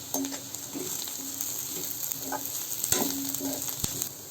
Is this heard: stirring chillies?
yes